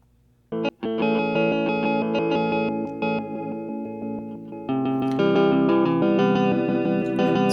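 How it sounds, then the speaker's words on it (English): An electric guitar played clean through a Chase Bliss Audio effects pedal rings out in sustained, layered notes with a shimmering, effected tail, growing fuller and brighter partway through. "let's listen to the clean guitar again"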